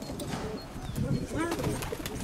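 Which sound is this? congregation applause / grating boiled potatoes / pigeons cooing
pigeons cooing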